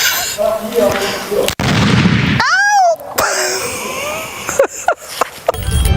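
A replica gun fires a blank gunpowder charge straight up at a folk celebration in Brazil, giving one sharp, loud blast followed by a ringing, whistling tail, with people talking and outdoor crowd noise around it.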